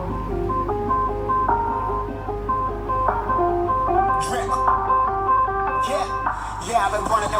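A rap song plays from the four speakers of a Xiaomi Pad 6 tablet, a steady beat with a melodic synth line and a rapping voice, moderately loud and continuous.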